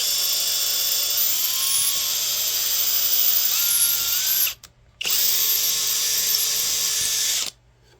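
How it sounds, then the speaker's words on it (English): A drill boring into slingshot build material with a drill bit, whining loudly and steadily at close range, cutting out briefly near the middle and stopping just before the end. "if you do end up drilling all the way through like that, it's not going to hurt anything"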